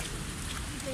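Rain falls near a lagoon, a brief, steady hiss of drops on surfaces with a voice faintly present underneath.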